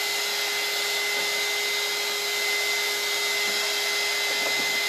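A hair dryer blows steadily and loudly at close range, drying chalk paste, a constant whooshing hum with no break across the whole stretch.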